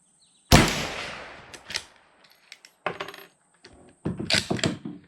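A single loud rifle shot from a Mossberg Patriot chambered in 350 Legend, with a sharp close report and a decaying tail, followed by a few quieter clicks and knocks of the action being worked.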